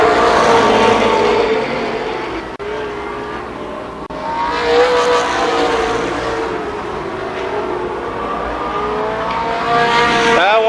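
IMCA modified race cars race at Columbus Motor Speedway, engines roaring loud and continuous as the cars pass, the pitch rising and falling, with a race announcer's voice running over the noise.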